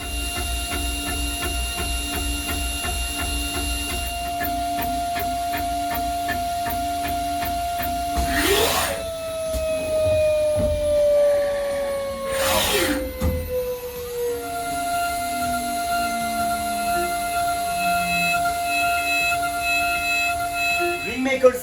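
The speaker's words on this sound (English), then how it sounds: "Ringmaker CNC machine is an easy, low-cost, it's a practical solution to make different engravings on wedding bands, bangles." A Ringmaker CNC machine engraves a silver ring with a 2mm four-line diamond tool, whining with sliding tones and steady hum, broken by two sharp whooshing bursts, while a voice talks throughout.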